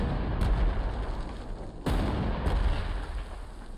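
Artillery guns fire in the World War II strategy game Panzer Corps 2 during a Wehrmacht campaign battle in Tunisia: three heavy booms, with the loudest in the middle, each rolling into a rumbling tail over steady low ambience.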